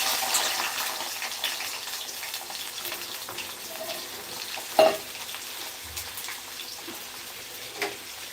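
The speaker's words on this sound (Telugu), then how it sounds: "అందులోనే కరివేపాకు కూడా వేసుకొని మనం వేయించుకోవాలి" Curry leaves and sliced ivy gourd fry in a pan, a low steady sizzle with a few scattered pops and stirring taps, heard close and alone.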